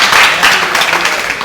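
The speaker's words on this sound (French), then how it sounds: "Ah oui, applaudissements, hein?" Studio audience on a French-language talk show applauds as a guest is introduced, a dense, steady wash of clapping filling the whole short stretch at fairly loud level.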